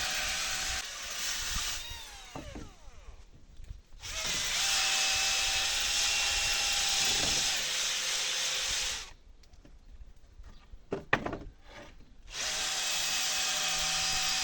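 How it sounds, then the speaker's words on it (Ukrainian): A power sander whirs loudly in long sustained stretches while sanding wooden terrace boards, pausing briefly between passes with scraping and clattering in the gaps. "Кожну дошку шліфую з двох боків і торці теж."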